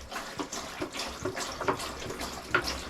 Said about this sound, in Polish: wodę wlewam RO i zamykam kubełek